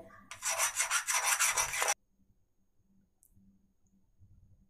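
Scissors blade rasps against a sharpening stone in one loud, continuous rubbing burst of about a second and a half with pulsing strokes, then near silence with faint low handling noise.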